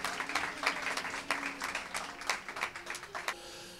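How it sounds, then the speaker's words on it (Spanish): An audience at a live comedy show of horror stories applauds with a soft, continuous patter of clapping, fairly distant and faint, that tapers off at the end. "un fuerte aplauso para Belushi."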